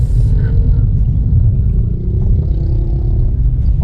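A car drives along the Sukkur bypass road, with a steady, loud low engine and road rumble running throughout and light rattling over the top.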